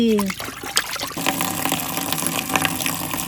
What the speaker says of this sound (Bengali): মাছ কাটা গেছে মাছগুলো ভালো করে ধুয়ে নিচ্ছি